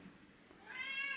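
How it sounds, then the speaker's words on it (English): A hungry cat yelling for its breakfast in the morning: one rising, drawn-out meow that swells from faint room noise into a close, loud, harmonic cry at the end. "My cat's yelling at me"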